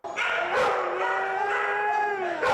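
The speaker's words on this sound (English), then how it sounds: "These dogs are waiting for their forever home." Shelter dogs at Winnebago County Animal Services howl and bark together, a loud, close chorus of sustained wavering howls punctuated by sharp barks, with no talking.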